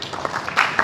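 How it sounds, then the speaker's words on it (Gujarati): An audience claps in a short, scattered patter of hand claps, a few sharper claps standing out near the end. "તાળીઓ પાડો ભાઈ"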